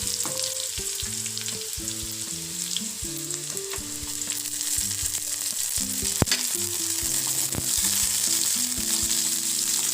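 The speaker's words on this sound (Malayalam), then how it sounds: "ഇതിലേക്ക് നമ്മൾ വൃത്തിയാക്കി വെച്ച പച്ചമുളകും കൂടി ചേർത്ത് കൊടുക്കുക." Green chillies and shallots fry in hot oil for brinjal thoran, a loud, even sizzle with occasional stirring clicks and faint background tones, close up and with no speech.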